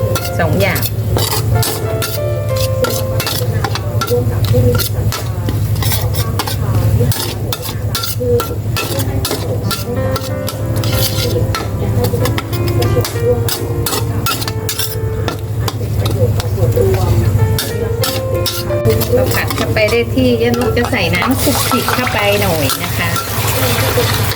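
Chu chee catfish curry paste, made from galangal, lemongrass, kaffir lime leaves, shallots, garlic and roasted chili paste, stirred and tossed in a frying pan. Steady scraping and a low sizzle continue throughout, with a constant hum beneath.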